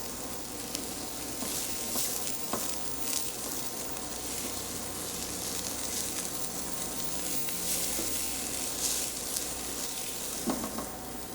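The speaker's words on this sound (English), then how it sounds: "Then we're going to go ahead and just give that a nice little saute." Green chilies, serrano peppers and white scallions sauté in a hot pan with a continuous, fairly loud sizzle, broken by scattered crackles and the occasional scrape of stirring.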